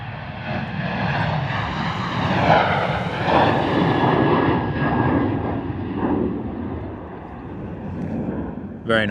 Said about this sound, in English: A Ryanair Boeing 737 off to Toulouse.